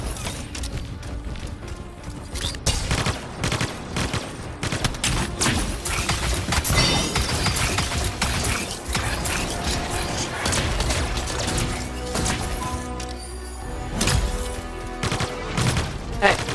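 Gunfire in the video game Anthem, with repeated bursts of shots and booms over music and game effects lasting throughout, dense and loud.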